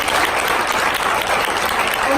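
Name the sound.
round of applause from audience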